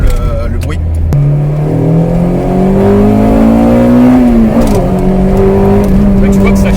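A 1998 Honda Integra Type R with a 1.8-litre V-TEC engine and twin-loop exhaust pulls hard, its engine note climbing steadily in pitch through the revs, loud and close, with a brief dip before rising again.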